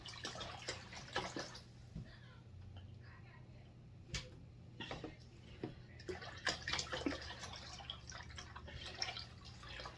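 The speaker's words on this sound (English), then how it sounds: "And then I'm going to pour that into the reservoir." Nutrient water carrying plant A and B foods poured into a hydroponic system's reservoir, heard as a faint, close trickle with scattered drips and splashes, a low hum underneath and occasional soft speech.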